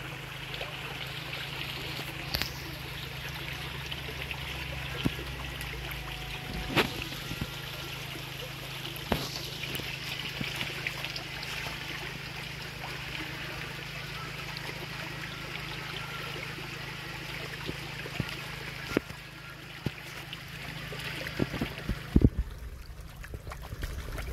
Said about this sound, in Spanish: Miren, aquí está la agüita, aquí viene el rillito.